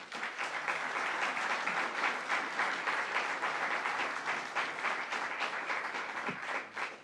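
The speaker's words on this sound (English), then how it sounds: "So I want to give a round of applause to all of you." Steady, sustained applause from an indoor audience at a New York State event honoring volunteer fire companies, dense clapping holding at an even level throughout with no speech over it.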